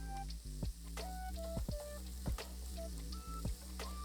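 Ground chorizo frying in a pan, a steady close sizzle with occasional sharp crackles and scraping clicks as the meat is broken up, fairly quiet overall and free of talk.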